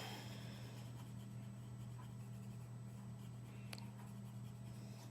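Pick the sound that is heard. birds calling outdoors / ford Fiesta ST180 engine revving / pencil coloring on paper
pencil coloring on paper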